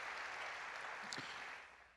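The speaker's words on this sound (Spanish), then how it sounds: "¿Qué le parece si le damos un aplauso al Señor porque es bueno?" Congregation applause to the Lord in a church service, a faint, distant, hissy wash of clapping with one brief sharper sound near the middle, tapering off at the end.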